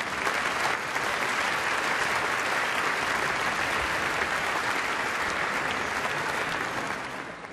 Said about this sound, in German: Für Sie alle bitte ich Sie zu Beginn dieses Abends um einen ganz, ganz herzlichen Applaus.